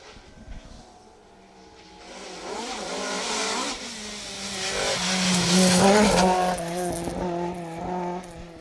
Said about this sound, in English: Car 33, Will Rowlands, Emir Hall, just leaping through the gates there and taking a very tight line around this little section